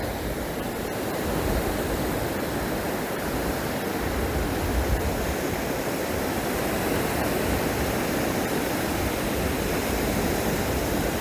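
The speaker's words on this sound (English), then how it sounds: "that wave noise for that surf" Ocean surf breaking on the shore at Drains Bay, a steady, broad roar of wash and spray close by that holds at an even loudness without pause.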